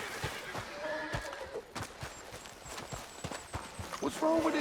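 A horse in the Red Dead Redemption 2 video game whinnies amid clip-clopping hooves, with a louder neigh near the end, while people talk over it.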